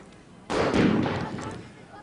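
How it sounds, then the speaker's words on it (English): Firecrackers set off on the stadium terraces during a 1991 Carcassonne versus Catalan rugby league match: one sudden loud crack with a broad rumbling echo that fades over about a second and a half. "Certainly having a time with the firecrackers on the terraces."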